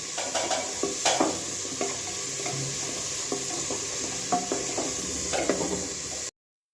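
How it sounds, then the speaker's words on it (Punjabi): Onions frying in a home kitchen pan until golden brown, a soft steady sizzle broken by scattered scrapes and clinks of a spoon stirring, close and moderately quiet. "ਪਿਆਜ਼ ਸਾਡਾ ਭੁੰਨ ਹੋ ਗਿਆ"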